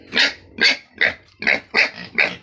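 Noisy pigs on a farm let out six loud, close squealing calls in a steady, evenly spaced rhythm, with no talking.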